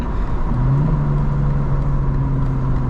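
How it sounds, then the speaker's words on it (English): A loud, steady engine hum close by, with a rising tone as a car accelerates and rolls past, continuous rumble throughout. "it's really just a car like next to you"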